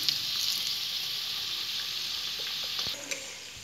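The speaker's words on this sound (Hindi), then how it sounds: "इनको अच्छा गोल्डन ब्राउन आने तक मैं सेक लूंगी।" Sabudana vadas deep-frying in hot oil in a kadai give a steady, close sizzle that holds at an even level throughout, with a few faint clinks near the end.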